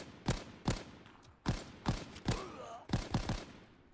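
Gunfire in the World War II shooter Call of Duty WW2, with seven sharp, loud shots in quick irregular succession, some in close pairs. A faint whistling tone sits between them.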